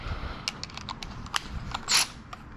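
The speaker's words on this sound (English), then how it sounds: "it's gonna be a 13 millimeter bolt. Grab a side ratchet" Quick ratchet clicks and metallic tool sounds come from working a 13 millimeter bolt on an AMG M113K engine, a short series of close, crisp ticks with a brief louder rasp.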